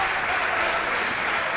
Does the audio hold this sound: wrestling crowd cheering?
yes